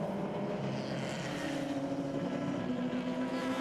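Clio Cup race cars pulling away at the start of a circuit race, a dense continuous engine roar with rising pitch as the pack accelerates, loud and steady.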